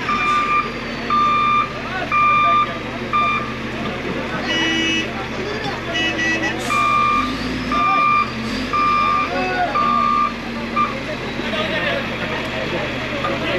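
A truck stuck on a riverbank during a crane rescue sounds steady, repeating reversing beeps over a constant engine rumble and outdoor noise, loud and close, with people talking in the background.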